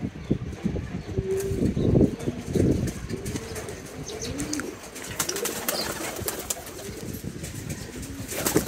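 Pigeons in a loft coo repeatedly in soft, throaty rolling calls, several birds close by, with occasional rustles and wing flaps.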